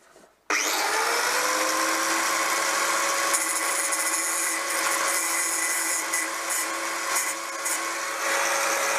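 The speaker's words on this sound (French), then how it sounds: "Là, juste un tout petit coup de meuleuse." An angle grinder cuts a welded headlight bracket on a Citroën 2CV. After a brief quiet start it spins up to a loud, steady, high whine that holds without a break, and no voices are heard.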